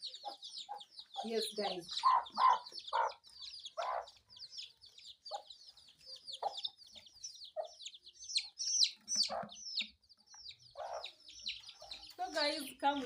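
Chickens cluck around a village home in Africa, with repeated short clucks and calls in an irregular rhythm, joined by higher bird chirps and a voice speaking briefly near the end.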